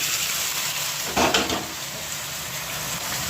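Onion, potato, chicken and tomato frying together in a pan, a steady close sizzle throughout with a brief louder burst of crackling as the ingredients are stirred.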